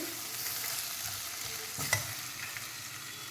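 Chopped tomatoes and onions fry in a pan while being stirred, a steady soft sizzle under a spatula scrape and a brief clatter near the middle, close and without speech.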